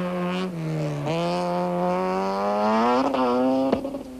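A Toyota 4x4 Conquest rally car on a rally stage, its engine loud and close, climbing through the revs with quick gear changes and a final sharp burst.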